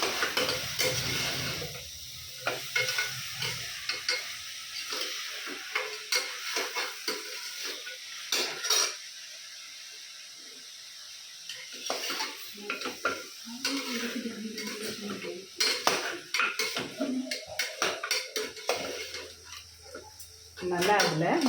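Mutton pieces being stirred with masala in a pan for mutton soup, irregular scraping and clattering of a utensil against the pot over a low sizzle, with a voice talking for much of it.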